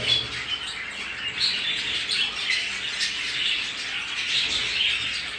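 Young Japanese budgerigars make chirps and squawks, repeated irregularly at moderate distance. The calls sit over a soft, constant background hiss.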